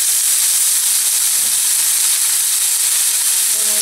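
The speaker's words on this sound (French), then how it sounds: "j'ai mis de l'huile d'olive dans une poêle anti-adhésif et je mets par-dessus de l'échalote émincée" Minced shallot sizzles in olive oil in a non-stick pan, a constant bright hiss of frying that runs unbroken and close throughout.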